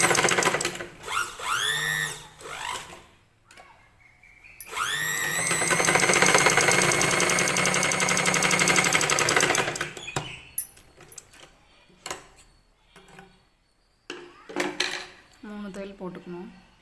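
A sewing machine stitches a blouse in short runs: a quick burst early on, then a long, steady whirring stretch of about five seconds, followed by scattered clicks and handling noises from the machine.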